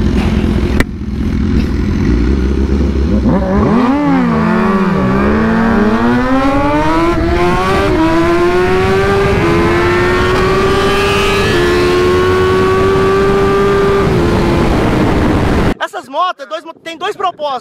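A BMW S1000-series sport motorcycle engine revs hard and climbs steadily in pitch as it speeds past up close on a street, then cuts off abruptly.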